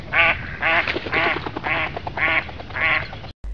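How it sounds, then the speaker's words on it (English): A mallard duck quacks six times in an even series of loud, nasal calls, close and clear with nothing else over them. "Mallard"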